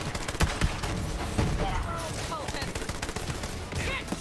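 Borderlands 3 gunfire, sharp repeated shots in uneven bursts over a busy game mix, with voices talking underneath.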